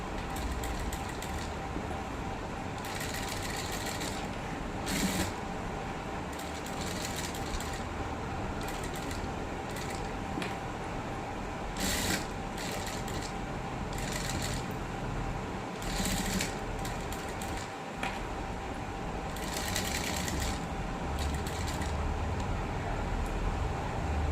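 A sewing machine stitching scallop cut work, a close, continuous mechanical whir with clattering needle bursts that start and stop in irregular runs.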